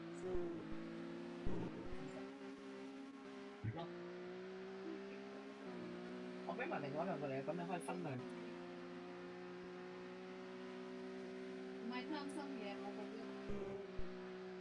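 Formula 3 race cars lapping the Zandvoort circuit: a steady, droning engine tone holds throughout, with brief rising whines and passing surges layered over it, fairly distant.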